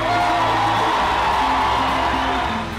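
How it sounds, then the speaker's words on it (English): An audience in a room full of energy yells, whoops and cheers loudly in a continuous, dense wash of crowd noise with scattered shouts rising above it. "It's hard not to notice all the yells and the clapping and the energy in the room."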